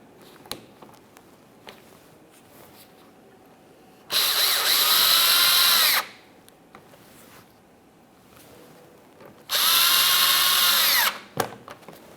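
A power tool snugs up bolts on a 2017-2024 GMC Acadia during radiator cooling fan work, two loud bursts of about two seconds each separated by quiet shop pauses and small clicks.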